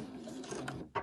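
Over about one second, a sewing machine makes a brief whir and a mechanical clunk while back stitching a zip on a bag, close and fairly quiet.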